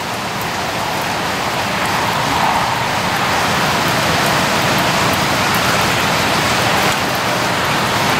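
Heavy rain pours down steadily in a dense, unbroken hiss, loud and close, with no pauses throughout.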